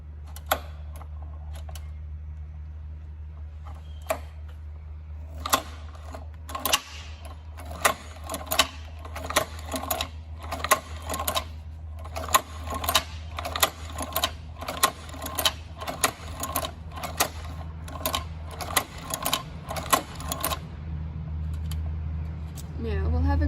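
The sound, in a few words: Cowboy Outlaw sewing machine stitching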